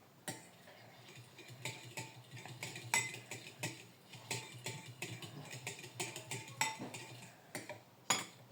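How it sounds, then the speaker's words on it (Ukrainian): A cupcake batter of oil, egg and kefir stirred in a mug, rapid irregular clinks and scrapes of a spoon against the ceramic, close and quiet, with no talk. "І тут треба трошки перемішати його, щоб олія соєнилась з яйцем і кефіром або з молоком."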